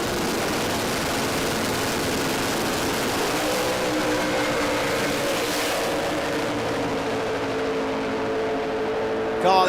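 Drag racing car engines roar continuously at Willowbank Raceway during a radial-series round, a loud dense engine wall with rising revs partway through and a sharp burst at the end.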